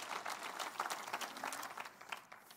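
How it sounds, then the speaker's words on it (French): Church congregation applauding during a Sunday service, a dense, fairly quiet patter of many hands clapping at once, steady throughout with no talk over it. "Come on, une bonne main d'applaudissement."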